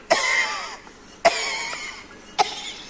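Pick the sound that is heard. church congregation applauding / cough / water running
cough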